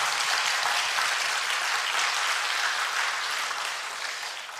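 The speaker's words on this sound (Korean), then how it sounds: "우리 축하와 격려의 박수 부탁드리겠습니다" A church congregation at a Sunday afternoon service applauds the graduates of a family Bible study course, dense sustained clapping filling the room evenly for several seconds before easing slightly at the end.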